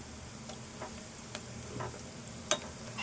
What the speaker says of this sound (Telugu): చూడండి ఉల్లిపాయ ఇట్లా వేగితే సరిపోద్ది